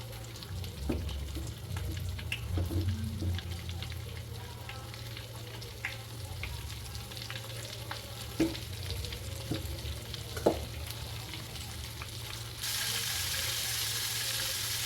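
Chicken pieces in a batter coating frying in hot oil for homemade KFC-style chicken, a steady close crackling sizzle with occasional pops and a few soft clinks, growing to a louder hiss near the end.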